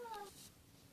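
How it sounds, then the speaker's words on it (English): A house cat meows to be let outside, a short, close, whining call at the start that fades within a fraction of a second into quiet room noise. "That's my cat trying to go out."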